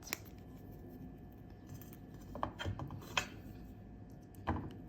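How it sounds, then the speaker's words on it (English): Jewelry wire for crescent earrings is snipped with cutters, a few sharp faint clicks and snips spread over a quiet background with light handling rustle. "Just cut."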